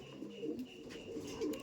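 Imported Pakistani Golden pigeons cooing softly, a few low throaty coos at a distance, faint over light background noise.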